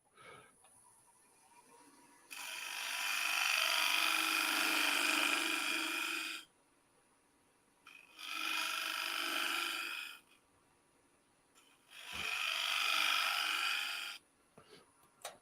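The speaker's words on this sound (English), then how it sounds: "I'm going to scrape this little section right in there." Shear scraping a turned wooden bowl on the lathe, three bursts of bright, hissing scraping against the steady hum of the running lathe, with short quiet gaps between strokes.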